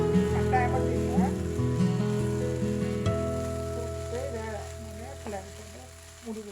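Moringa leaves and crab fry in a pan with a steady, close sizzle and occasional stirring scrapes, fading slightly toward the end, and faint talk now and then.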